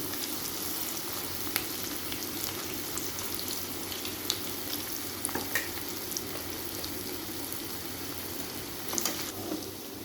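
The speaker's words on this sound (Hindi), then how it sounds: "ऑयल गर्म हो गया, अब इसके अंदर मैं ये फ्राई करूँगी" Beef pieces for chatkara boti frying in hot oil, a soft, even sizzle running throughout with occasional faint pops and light ticks.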